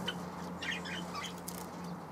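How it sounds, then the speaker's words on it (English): Owl finches in an aviary give small, high chirps and tweets, a few scattered calls over a low steady background hum, faint and somewhat distant. "My owl finches."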